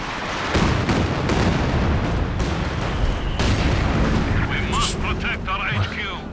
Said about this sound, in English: It's another creeping barrage,